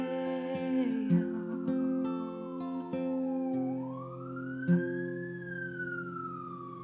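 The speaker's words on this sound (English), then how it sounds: "Did you pay extra for the siren effect background?" A wailing emergency siren rises and falls over steady tonal background music, with a few soft clicks; no one speaks.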